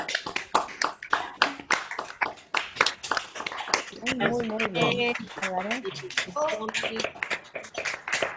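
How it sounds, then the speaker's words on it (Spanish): Scattered, uneven clapping comes from online participants over microphones for a panel of speakers, with sharp individual claps overlapping and people talking over the middle part. "los invitamos a aplaudir la mesa"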